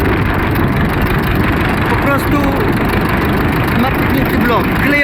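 A URSUS C-325 tractor engine, freshly overhauled and being run in, chugs loud and steady at close range with a rough low rumble, and a voice talks over it.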